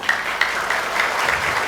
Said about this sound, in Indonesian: berikan tepuk tangan kepada leader-leader Anda.